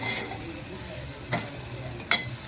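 Grated coconut for a wheat-flour modak filling sautés in a pan with a steady soft sizzle, broken by two sharp spatula taps against the metal.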